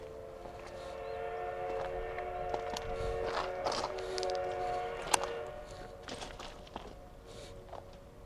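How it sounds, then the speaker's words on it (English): A train runs along the tracks in Japan with steady rumbling and clattering, while sharper metallic knocks and squeals stand out over a continuous moderate roar and no voices are heard. "I heard the choo-choo."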